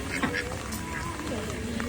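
Ducks quack repeatedly at close range while being fed at a floral village in Yufuin, Japan, their calls mixed with people chatting nearby.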